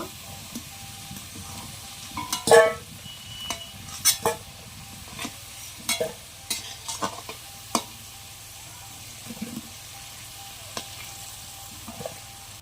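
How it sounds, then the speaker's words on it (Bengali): Fried potatoes being stirred in oil in a kadai make a soft background sizzle, broken by intermittent scraping and clinking strokes of a spatula at an uneven pace. "আলুগুলো লাল করে ভেজে নিয়েছি।"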